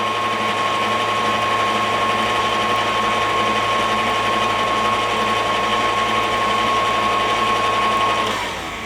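An electric mixer whirs steadily and loudly while beating buttermilk pecan pie batter, a continuous motor drone with a steady high whine that runs without a break and eases off only at the very end.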